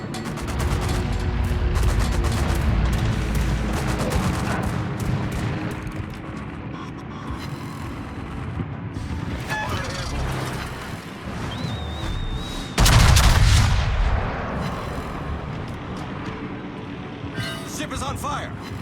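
The battleship Massachusetts fires broadsides in a ranked World of Warships battle. Heavy gun booms and rumbling blasts roll over continuous engine and sea noise, with one especially loud salvo late on.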